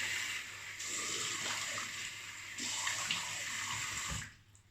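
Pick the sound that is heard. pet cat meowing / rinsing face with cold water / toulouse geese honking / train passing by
rinsing face with cold water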